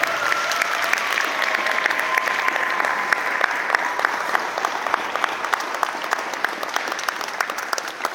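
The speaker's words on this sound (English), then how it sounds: "can we please get a round of applause for all the cadets that just put on a great show?" A ceremony audience applauds NJROTC cadets after their performance, producing dense, sustained clapping that holds at a steady level for the whole stretch, with a faint crowd murmur underneath and no speech on top.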